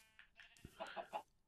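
A few short, faint bleats come from sheep in the Minecraft video game, spaced one after another over a quiet background.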